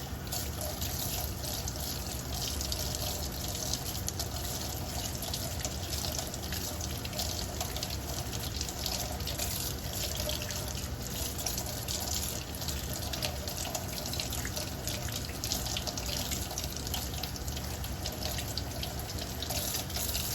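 A makeup brush rinsed under a running tap at a sink, a steady continuous rush of water with faint splashing and trickling throughout, no voices.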